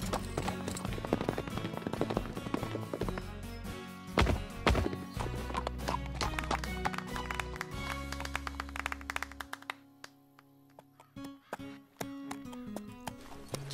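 Cartoon horse hooves pound out a rapid galloping rhythm over a musical score, rising to a heavy thump as the horse jumps an obstacle, then the music thins out near the end.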